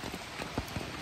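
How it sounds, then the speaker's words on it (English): Steady rain patters on a tent roof during a morning on the Appalachian Trail, a dense, even hiss of drops with a few slightly louder taps, close and continuous with no talking. "I think it did, but raining all morning, so yay."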